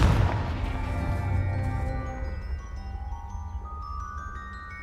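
A fiery Confringo blast spell from the game Hogwarts Legacy bursts with a loud, booming impact near the start, then its rumble and ringing tones fade slowly over several seconds.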